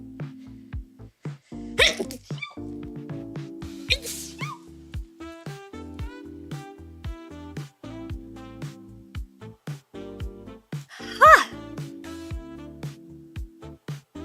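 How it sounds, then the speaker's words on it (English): A single sharp sneeze bursts out over a steady electronic melody playing in the background. "I gotta sneeze."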